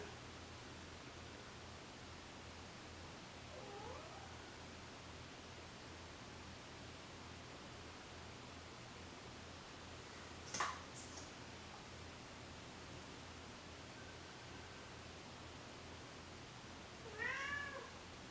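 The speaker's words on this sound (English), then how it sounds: "That is the kitten, I believe." A small kitten meows a few times indoors, faint and distant over a steady background hiss, with one short cry near the middle and a couple more toward the end.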